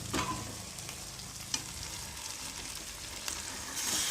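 Onions and meat frying in a pan give a steady, fairly quiet sizzle with a couple of faint stirring clicks, close and continuous with no voices.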